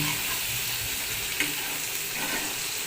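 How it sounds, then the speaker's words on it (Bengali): Spice paste for shrimp dal frying steadily in a pan, a continuous soft sizzle with faint stirring scrapes, fairly close and with no talking. "আগে মশলাটা ভালো করে কষিয়ে নেব"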